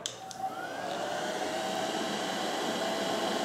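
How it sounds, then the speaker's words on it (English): A hair dryer blows steadily to heat a car's in-cabin temperature sensor during testing, a close, continuous whooshing roar with a faint whine, heard alone with no talking. "Let's grab a hairdryer, and this number should decrease as it warms up."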